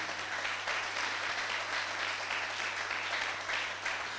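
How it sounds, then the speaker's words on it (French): A church congregation applauds in praise of the Lord during a sermon, an even wash of many hands clapping at a moderate distance, sustained the whole time over a faint low electrical hum. "On acclame le Seigneur pour sa parole"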